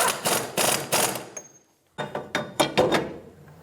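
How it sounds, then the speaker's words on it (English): A ratchet snugs the axle nut on a 2003-2007 Infiniti G35 rear wheel hub bearing, sounding as close, quick bursts of clicking with a brief pause between two runs. "Snug down the axle nut."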